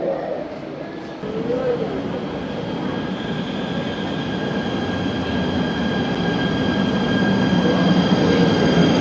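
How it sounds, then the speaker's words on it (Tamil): A KTM electric commuter train in Malaysia runs with a steady, close rumble and rail hiss that gradually grows louder, with a faint high whine above it throughout. "இதுதான் KTMன்னு சொல்கிற ட்ரெயின்"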